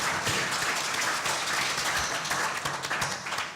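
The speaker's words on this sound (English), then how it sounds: "how about a round of applause for all of the hard work that they've done?" An audience at a 2014 gaming expo seminar applauds its organizers, a steady wash of many hands clapping that fills the room at moderate level without pause.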